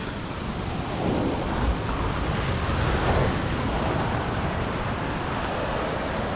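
Ocean waves break and wash steadily on the beach at Far Rockaway, a continuous close roar of surf with gusting wind noise on the microphone and no talking.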